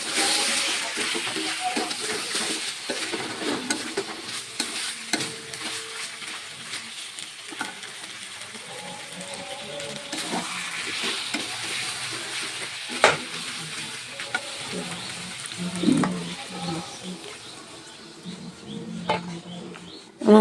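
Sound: meat curry frying and being stirred in oil

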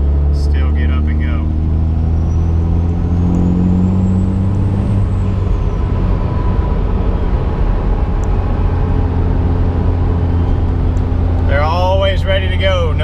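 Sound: Cummins diesel truck with twin turbos accelerating

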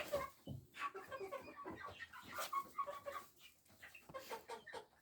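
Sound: chickens clucking

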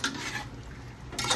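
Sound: stirring chicken pulao masala in a pot

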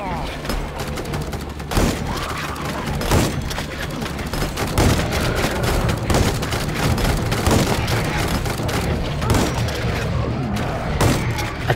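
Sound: turrets firing at zombies in video game Days After

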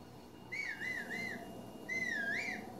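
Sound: whistling for a horse in a Zelda video game

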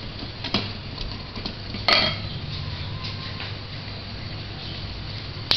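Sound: stirring melted chocolate in a bowl over boiling water

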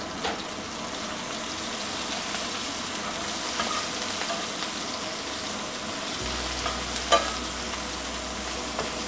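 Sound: onion and panch phoron frying in leftover oil in pan

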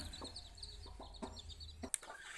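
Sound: naked neck chicken clucking

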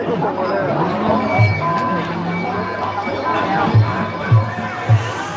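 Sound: crowd cheering at a Muay Thai boxing match

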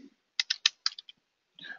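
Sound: typing on a computer keyboard

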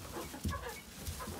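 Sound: barred rock chicken clucking

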